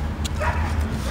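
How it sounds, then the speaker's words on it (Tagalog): A dog gives a few short yips and whimpery barks close by, with people talking in the background. "Ayan yung dog."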